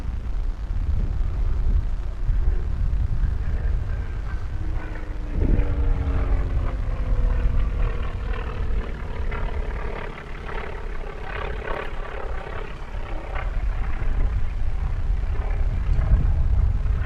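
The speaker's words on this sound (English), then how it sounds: "Aerobatic guys, always flying right over my head." Aerobatic propeller airplanes pass overhead at an air race, a loud continuous engine drone with a sharp pitch sweep as one plane crosses close by, then a sustained roar.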